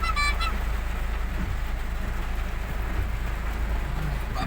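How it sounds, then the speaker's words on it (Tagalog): Heavy rain pours down steadily during a Lalamove delivery drive, a dense, loud, continuous hiss of water hitting the surfaces close by, with a low rumble underneath and no break in the downpour. "Lakas ng ulan."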